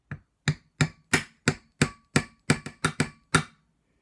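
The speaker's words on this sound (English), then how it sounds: "tap it until it pokes right through that can" A hammer taps a nail through the center of a tin can in about a dozen sharp metallic strikes, evenly spaced at first and then speeding up, close and clear with no talk.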